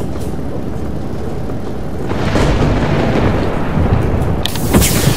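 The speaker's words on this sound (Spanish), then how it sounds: "Es que empieza a llover" Rain begins to fall in Far Lone Sails during a storm, a steady rumbling roar that swells partway through and turns brighter and hissier near the end, with no voices.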